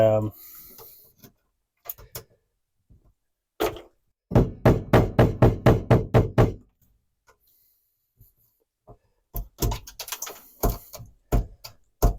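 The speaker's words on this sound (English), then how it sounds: "the combo of smacking it with the rubber mallet" A rubber mallet smacks sound-deadening material in short bursts: isolated thuds, then a rapid run of about ten evenly spaced blows, then more scattered hits, all close and dry with quiet gaps between.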